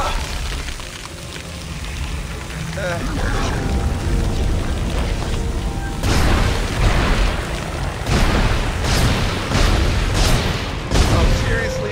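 Repeated loud booms and blasts from the survival horror video game Dead Space 2, heavy low-end bursts arriving in a rough rhythm, with someone talking over the action.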